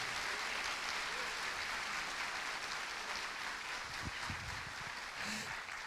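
A church congregation claps together in a broad, continuous wash of applause that fills the room evenly, heard at a distance and fairly faint, with no voices over it.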